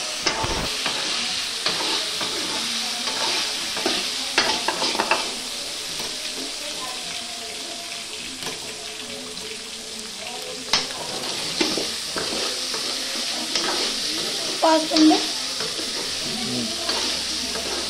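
Chicken sukka frying in hot oil gives a steady, dense sizzle throughout, with occasional stirring scrapes and clatters and brief sharper bursts near the end.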